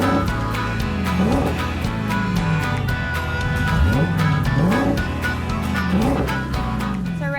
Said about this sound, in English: this is the 2020 Dodge Challenger Hellcat.